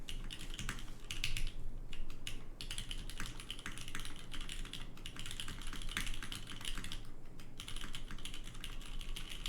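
Rapid, steady keystrokes on a custom GODSSON Dark Ex Ecliptica mechanical keyboard, close and crisp with a few brief pauses, with no talking.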